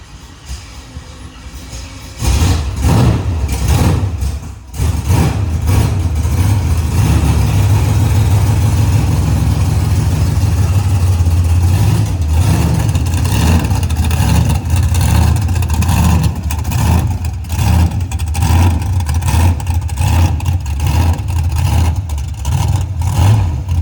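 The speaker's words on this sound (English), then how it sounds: "We got to move the monster truck out of the way" A monster truck engine rumbles loudly and continuously with deep low-end growl, briefly dipping before surging back to a sustained heavy revving roar close by.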